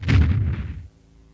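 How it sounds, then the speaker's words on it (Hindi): A loud, close explosion boom from the Indian TV superhero series Shaktimaan, set as a cave blast, with a heavy low rumble that bursts and fades within about a second, no voices. "यहाँ पे हो जाता है एक भयंकर विस्फोट"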